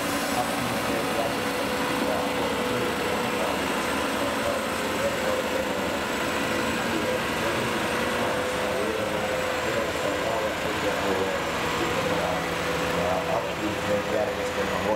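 Ponsse Ergo forestry machine with Active Frame cab stabilisation running on a test track at FinnMETKO 2016, a steady broadband engine drone throughout with someone talking over it.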